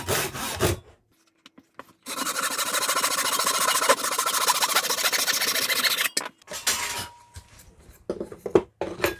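A hand saw cuts through the shaft on a homemade hand-powered cabbing machine: one steady stretch of close, rasping back-and-forth sawing lasting about four seconds, framed by clanks and handling noises.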